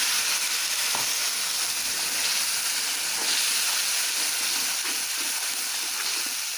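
Spiced soybean curry sizzles steadily in a pan after water is poured into the masala, a loud, constant broadband hiss with small crackles throughout and no talking.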